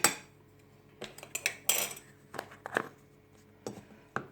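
A spoon clinks and scrapes against a bowl while dahi bhalle batter, dosed with baking soda, is beaten; sharp separate knocks and rasps come close and clear with quiet gaps between them.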